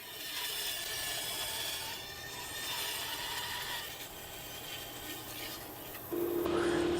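Machine cutting of wood pieces for the internals of tea boxes in a woodworking shop: a steady, loud rasping whine runs throughout, rising sharply near the end, with no talking.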